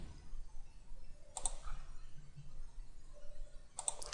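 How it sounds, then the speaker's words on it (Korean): Computer mouse clicks while working in Autodesk Inventor 2015, two quick isolated clicks about two and a half seconds apart, close and crisp over a low, quiet room hum. "클릭."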